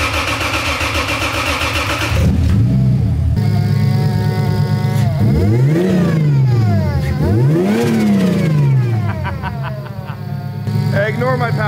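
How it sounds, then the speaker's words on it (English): A single-turbo 2JZ engine in a Lexus IS300 revs hard several times up close, the pitch sweeping up and falling back between blips, with turbo whistle and flutter on the overrun; a voice speaks over it. "I wanted to actually get some turbo noises and test it out some more"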